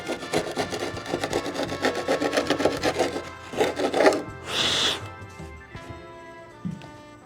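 Scraping old gunk and finish out of the tongue of a salvaged wooden floorboard in an 1857 Philadelphia rowhome, a close, steady rasping and rubbing of a tool along wood in rapid strokes, pausing briefly before a softer scrape.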